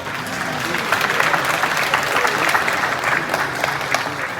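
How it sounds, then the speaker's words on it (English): Hundreds gathered for a Lunar New Year celebration at a Queens cultural center break into sustained, fairly close applause, a thick continuous clatter of hands lasting several seconds. "So give him a round of applause"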